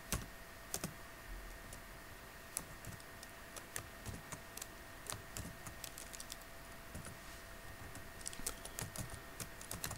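Code being typed on a computer keyboard for a Java NetBeans combo box program, heard as quiet, irregular key clicks with sharper taps scattered through a steady low background hum.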